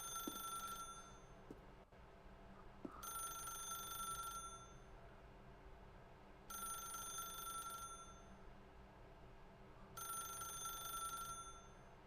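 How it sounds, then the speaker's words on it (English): A telephone in the video game The Stanley Parable rings in four evenly spaced bursts of bright electric trilling, separated by quiet gaps, heard alone in a hushed room. "This usually always goes wrong when you're locked in a room with a ringing phone."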